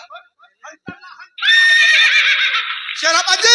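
A horse neighs loudly and close, a long shrill whinny rising at the end, after scattered shouting voices and a brief thump.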